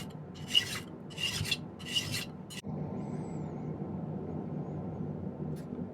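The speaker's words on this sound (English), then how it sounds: "A little bit of filing should make them almost exact." Hand file rasping on silver ring pieces: three or four short, close scraping strokes, then a click and a quieter steady background hum with no voices.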